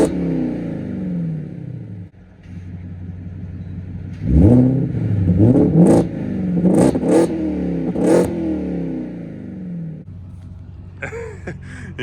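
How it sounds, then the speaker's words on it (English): The V8 engine and switchable exhaust of a Ford F-150 Raptor R rev loudly at close range, rising and falling in several throaty surges over a steady idle rumble. "You can see the V8 sound is really nice."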